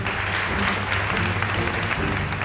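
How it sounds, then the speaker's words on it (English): A studio audience on a cooking competition show claps steadily in a dense, continuous burst of applause to vote for a chef, filling the room with no speech over it. "if you think Bobby's gonna win, clap your hands."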